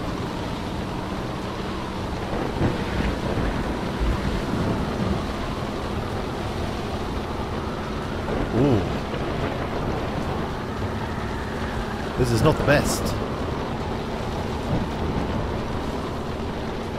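A stormy sea in Ships 2017 gives a steady wash of wind, rain and rolling waves with a couple of low rumbling swells. A voice comes in briefly and quietly over it.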